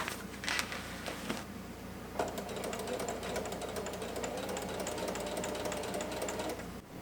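A sewing machine runs at a steady fast rhythm while stitching down the overcast edge of a patch on an army uniform. The rapid mechanical clatter is close and continuous after a brief irregular start, with no talking.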